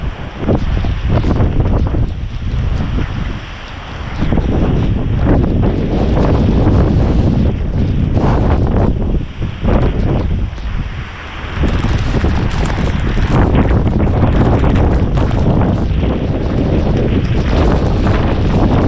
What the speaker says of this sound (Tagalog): Nakikita nyo naman, lakas ng hangin, oh.